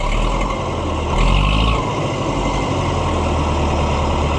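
A late Oliver 550 diesel tractor runs steadily, a loud, close low-pitched engine rumble with a brief swell in revs near the start before settling back to an even idle.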